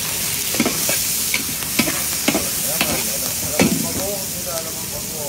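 Garlic and onion fry in hot oil for pancit, a constant loud sizzle broken by the scrape and clatter of stirring with a spatula.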